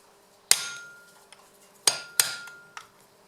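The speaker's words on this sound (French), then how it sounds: "Le plus pénible c'est des fois de trouver le tournevis qui va bien pour chasser ça." Gearbox linkage pins on a wrecked Subaru being rebuilt as a rally car are driven out with a screwdriver, giving three sharp metallic strikes with ringing decay and a couple of lighter taps between them.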